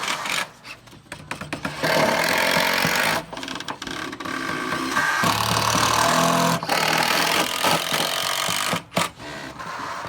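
A power driver sinks screws into a wooden picnic table outdoors: a few short whirring bursts, then a long sustained motor whine with grinding as the screw bites into the wood, close and loud.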